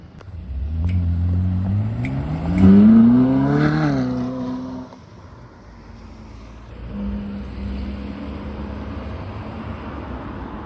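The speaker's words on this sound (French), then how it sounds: "Ferrari 458 Spider V8 4 litres 5 Atmo" A Ferrari 458 Spider with a naturally aspirated 4.5-litre V8 revs up nearby on a Deauville street, its rising howl peaking at around three seconds, then dropping back to a lower idle burble before a second, milder rev.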